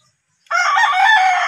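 A rooster crows loudly and close, one long sustained call starting after a brief silence.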